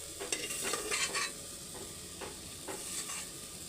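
Gongura curry being stirred in a pressure cooker pot, a steady scraping and sizzling with a few sharper spoon strokes near the start, close and moderately loud with no talking.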